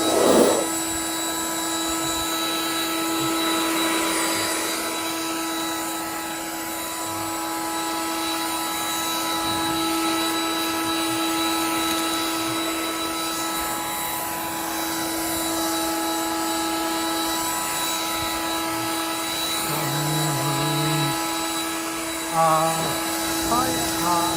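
STIHL battery leaf blower running steadily with a loud continuous whine and rushing airflow, held at a constant speed for most of the stretch with only a slight change near the end.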